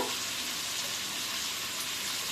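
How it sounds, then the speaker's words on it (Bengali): Chicken curry with potato, tomato and ground spices sizzles steadily in a pan as it is stirred, a dense, continuous, close frying hiss with no talking. "আমি আরও একবার ভালো করে নাড়াচাড়া করে নেব টমেটোটা পুরো একটু গলিয়ে নেব"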